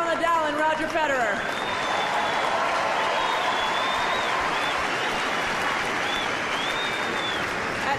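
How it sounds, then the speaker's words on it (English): A crowd applauds at the 2005 Miami tennis final between Roger Federer and Rafael Nadal, with dense, steady clapping throughout. An announcer's voice is briefly heard at the start over the applause. "How about another round of applause for our 2 great players, Rafael Nadal and Roger Federer."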